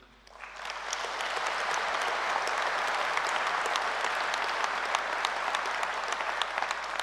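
Sustained applause from a large audience at a university graduation ceremony at Edinburgh Napier, rising quickly from near silence into a steady, dense wash of clapping that holds evenly throughout, with no talk over it.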